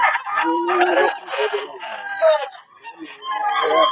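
A Sweater gamefowl rooster of Gilmore bloodline crowing loudly and close by, a strained drawn-out call followed by another, with someone talking faintly in the background.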